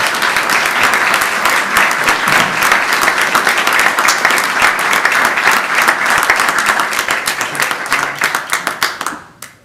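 Applause for a high school graduate bound for Clemson University breaks out at a town council meeting, a dense, sustained round of clapping from a room full of people that fades out at the end.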